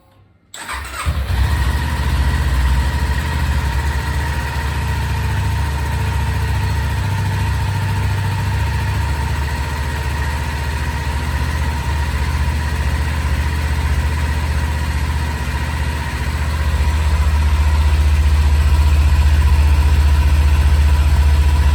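A Kawasaki Ninja 400SE motorcycle with its stock muffler starts up with a quick crank and catch, then settles into a loud, steady close idle that holds for about twenty seconds, with no talk.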